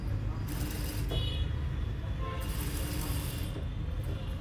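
A sewing machine stitching the falls onto a saree, a steady mechanical clatter running close and continuous throughout, with someone talking over it.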